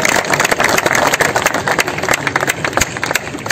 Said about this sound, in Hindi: आदित्य के लिए एक बार फिर तालियां बजाएं।